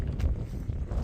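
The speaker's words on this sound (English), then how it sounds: "First it wasn't windy, but now it's windy." Wind buffets the microphone in a steady low rumble with gusty bursts, loud and close, no voices.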